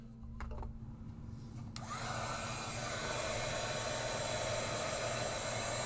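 A heat tool switches on and blows steadily, melting embossing powder for a papercraft project; a loud continuous whoosh with a faint hum builds after a short start and holds without talk.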